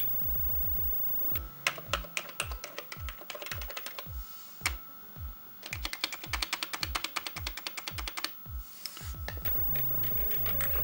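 Typing on a computer keyboard for an Amiga setup: rapid clattering keystrokes come in bursts with brief pauses, close and crisp against a quiet background hum.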